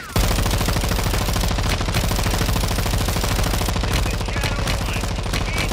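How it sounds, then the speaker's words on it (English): Sustained automatic machine-gun fire pours out in a dense, rapid stream of shots for the whole stretch, loud and close, from the Call of Duty MW2 campaign, with a faint voice underneath. "I'm getting as much fucking suppressive fire as I can"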